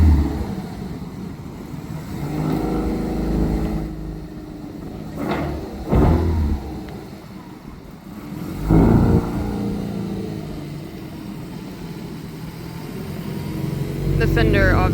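A restored car engine on its first drive after start-up, a steady low rumble that rises in a few revving swells as it moves, with someone talking over it.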